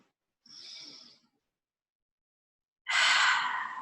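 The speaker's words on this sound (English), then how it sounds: "Powerful inhale for powerful exhale." Breathing during a yoga session, close and unaccompanied: a soft inhale through the nose comes first, then after a pause a longer, forceful, breathy exhale.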